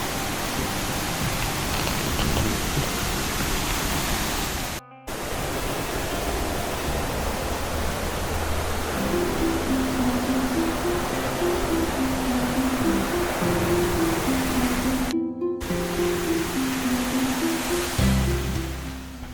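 Constant heavy roar of rushing water from a waterfall in Bogor, near Mount Salak, loud and unbroken, with a faint low tone emerging in the latter half.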